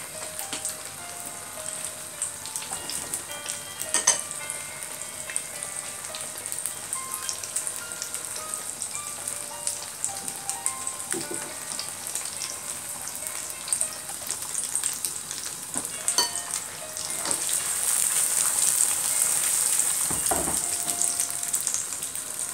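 Tofu and egg frying in a pan, a soft, continuous sizzle with scattered crackles and pops that grows slightly louder toward the end.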